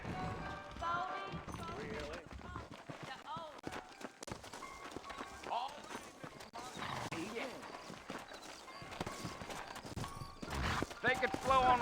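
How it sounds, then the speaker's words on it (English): Horses clip-clop on a dirt street in the western video game Red Dead Redemption, hooves thudding at an easy walking pace with a whinny, partly under characters' voices. "I got the horses saddled up and ready out front."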